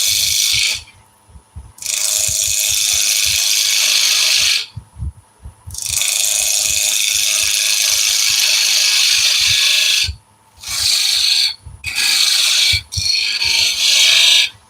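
Power tool spinning at 1500 revs cuts a chamfer in wood, its loud, bright whine starting and stopping in several bursts with short quiet breaks and clattering between passes.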